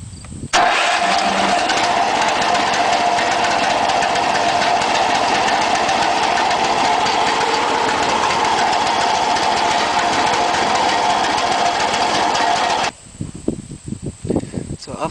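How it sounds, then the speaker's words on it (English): Gas engine of a Boaz mini combine starts up and runs steadily at a loud, even roar for about twelve seconds before cutting off. "Okay, let's start engine."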